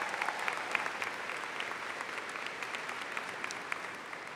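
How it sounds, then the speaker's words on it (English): An audience at a high school graduation ceremony claps steadily, a dense, continuous round of applause that holds at even strength throughout, with no voices over it. "Let's give them another round of applause,"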